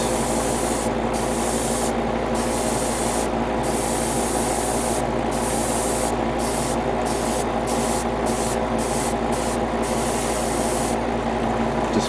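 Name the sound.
spray painting Titan's Blue 1 on a Gundam model kit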